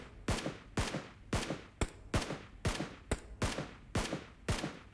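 Gunfire in the battle royale game PUBG Mobile, a steady run of eight sharp, loud shots roughly half a second apart, each with a short ringing tail, with no talk over them.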